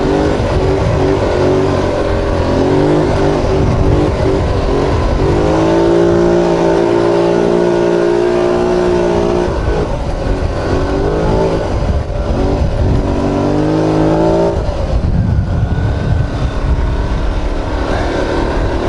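A quad ATV in four-wheel drive labors up a rough, sketchy trail near Sawmill Lake, its engine revving and droning loudly and steadily throughout, with pitch rising and falling as the throttle works over the terrain.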